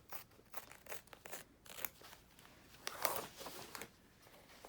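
Fiskars curved embroidery scissors trim fabric close to a stitched number on a kids' shirt, a quiet run of crisp snipping clicks at uneven intervals, near and faint, with no talking.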